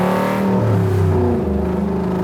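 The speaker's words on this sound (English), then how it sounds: "it still sounds like a Cobra, but it sounds like a unique Cobra" Superformance MkIII Cobra R with a 5.2 Aluminator V8 making 580 hp, revving hard up close, a loud, dense roar whose pitch climbs and holds at high RPM with no voices.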